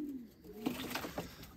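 Domestic pigeons coo softly outdoors on a dry spell between rains, a couple of low, rolling coos close by over quiet background air.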